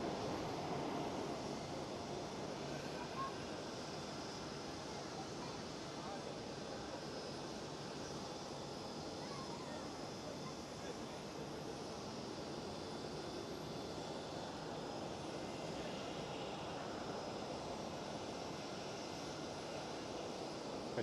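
A KLM airliner passing at Amsterdam Schiphol makes a sustained broadband engine rumble and hiss, moderately distant and steady for the whole stretch, with no speech.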